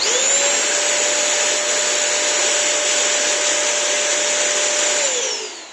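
Bissell CrossWave wet-dry vacuum cleaner running: a loud, steady motor whine with a constant high pitched tone, close up and continuous, dropping off slightly as it switches off at the end.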